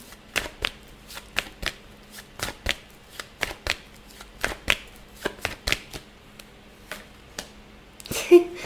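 Tarot cards are shuffled by hand in repeated crisp riffling bursts, roughly one or two per second, close and clear in a quiet room. The sequence ends with a louder flurry as cards are drawn and set down.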